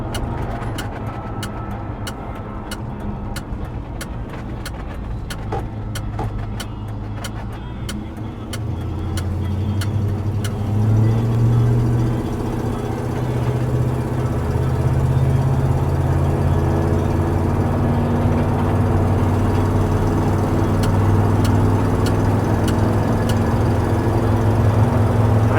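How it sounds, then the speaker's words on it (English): A 1967 Ford F-100 pickup cruising down the freeway, its steady engine drone and road roar swelling as it picks up speed, with a faint rhythmic ticking early on. "We're going to go down I-5 for you, so you can get a chance to see it going down the freeway."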